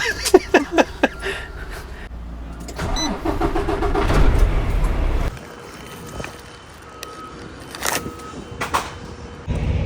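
A semi-truck engine cranks with a few sharp ticking clicks, then catches and roars to a loud, steady rumble before settling to a quieter idle, heard close from inside the cab with faint beeps.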